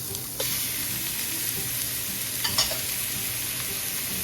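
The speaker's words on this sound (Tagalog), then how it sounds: "Lutuin natin na maigi yung ground pork, guys, hanggang sa mag-brown siya" Ground pork and onions fry in a pan with a loud, continuous sizzle, close to the ear, with a few sharp stirring clinks along the way.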